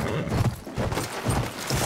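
Horse galloping in the video game Battlefield 1, with quick hoof thuds repeating in uneven bursts close by.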